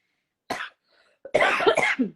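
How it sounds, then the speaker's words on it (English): Two bursts of coughing from a person recovering from pneumonia: a short single cough, a pause, then a longer rough fit of several coughs, close and fairly loud. "I might cough once in a while."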